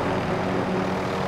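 A helicopter in the video game Call of Duty Warzone produces a steady, loud engine and rotor drone that stays constant and close throughout, with no other distinct sounds over it.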